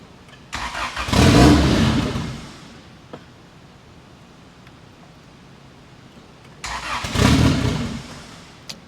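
A 1992 Honda Civic EG hatchback with a 600HP turbo engine starts for the first time, firing up in two loud bursts of cranking and rough revving separated by a quieter idle lull.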